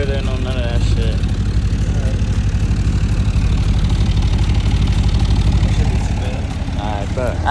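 An SRT Jeep engine with a new exhaust and mufflers removed idles with a deep, steady rumble, loud and continuous, while people talk over it.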